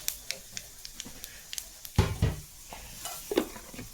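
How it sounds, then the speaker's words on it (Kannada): Cumin and mustard seeds splutter in hot oil in a pan, with scattered small pops and crackles over a soft sizzle and a louder burst of frying midway, close and fairly quiet. "ಇವಾಗ ನೋಡ್ರಿ ಜೀರಿಗೆ ಚಟಪಟ ಅಂತ ಸಿಡಿದಿದೆ"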